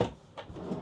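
A storage drawer in a Crusader Hybrid CRV Storm caravan pulled open: a soft wooden knock followed by a brief sliding rumble, close and moderately loud, with no voices.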